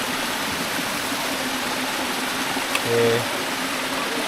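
Mountain stream water flowing steadily over rocks on a forest trail at Gunung Berembun, a broad constant rush close by, with a person speaking briefly over it.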